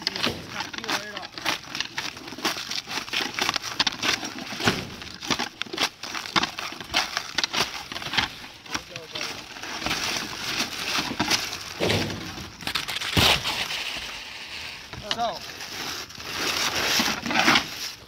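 Old roofing felt and shingles being pried, peeled and torn off a roof in a series of loud irregular scrapes, cracks and rips, close by and mixed with some talking.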